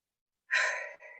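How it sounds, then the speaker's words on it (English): A single deep breath, a close, soft airy exhale that swells quickly and then trails off in a brief second puff, heard alone with nothing else around it. "One more deep breath"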